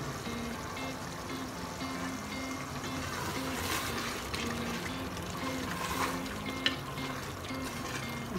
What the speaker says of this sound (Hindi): ये लीमू का रस जाएगा